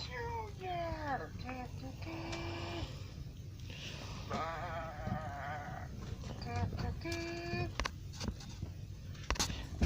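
A voice imitates a sheep bleating, with several wavering, drawn-out baas in a row, close and loud, mixed with a few other playful vocal noises.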